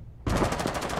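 A sudden burst of rapid automatic gunfire in a video game starts after a short quiet moment, with loud, close shots in a fast, even rhythm.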